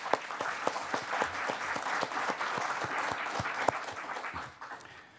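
Audience applause welcoming the candidates at a League of Women Voters candidate forum, a steady roomful of clapping with a few sharper individual claps, fading toward the end.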